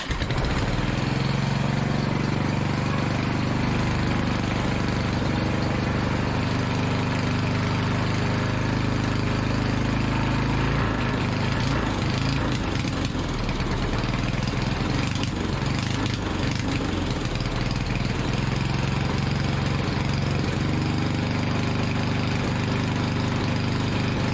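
A 1975 Briggs and Stratton 8hp small engine runs steadily and loudly close by, a continuous chugging drone with a slight wavering throttle partway through and no voices.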